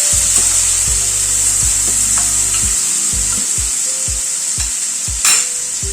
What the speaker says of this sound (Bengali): আলুটা একটুখানি নাড়াচাড়া করে নিলাম